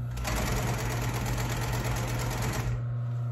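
A finely adjusted commercial upholstery sewing machine sews an upholstery cover, running at a fast, even stitching clatter over a steady motor hum for a couple of seconds before slowing and stopping.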